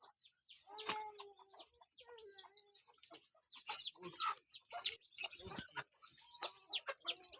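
Free-range chickens on a farm near Tasgaon, Satara, cluck in short, soft bursts, with a few sharper, louder calls in the second half.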